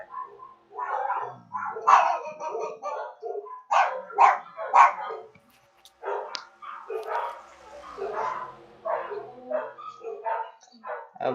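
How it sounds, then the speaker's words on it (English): Several dogs bark inside a house, with sharp yips and barks coming in irregular bursts and clusters, loud and close, with brief pauses between outbursts. "so ignore if my dogs just start spontaneously barking"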